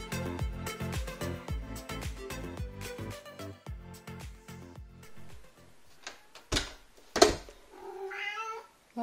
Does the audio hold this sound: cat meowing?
yes